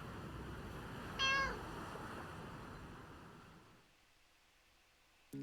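One short meow from a cat in a dating sim video game, heard clearly over steady wind-like ambient noise that later drops away, with no talking.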